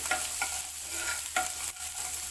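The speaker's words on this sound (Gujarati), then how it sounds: "ધીમા તાપે હલાવતા રહેવું।" Peanut powder being stirred with green chilli and ginger paste in a pan over a low flame, giving repeated scraping strokes over a steady soft sizzle, close and fairly quiet with no talking.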